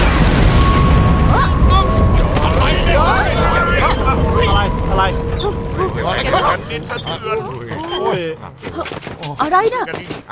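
A deep boom from an explosion in the anime Attack on Titan rolls out under a loud, chaotic wash of noise, followed by scattered shouts and excited voices.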